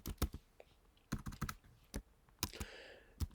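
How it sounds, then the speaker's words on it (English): Someone types on a computer keyboard, quick irregular clicks and taps spaced through a quiet room, fairly soft and close with no voices. "So if I start typing here"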